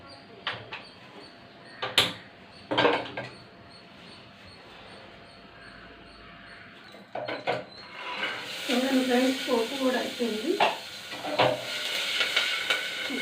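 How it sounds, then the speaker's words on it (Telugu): Chickpeas tempering in hot oil in a pan give a hissing sizzle that rises and turns busy partway through, with clatter and knocks from the pan and stirring amid a quiet household background. "శనగలు అనేది పోపు పెట్టుకోవాలి చూడండి పోపు పెడతాను"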